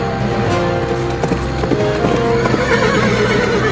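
A horse gallops with loud, steady clip-clop hoofbeats and neighs, a dense and continuous sound that stays close and prominent throughout.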